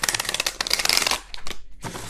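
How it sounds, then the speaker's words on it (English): A deck of tarot cards being shuffled, a close, fast riffling flutter of cards lasting about a second, then a few softer slides and taps of the split deck, with no talk. "I find it really hard to shuffle this deck completely, so I have to like split it up."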